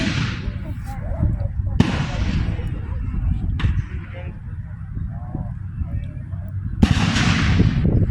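Gunfire from a Civil War battle reenactment at Old Bedford Village: three sharp, loud volleys or shots, spaced irregularly, with the third followed by a long rumbling echo, all over steady crowd murmur and people chatting nearby.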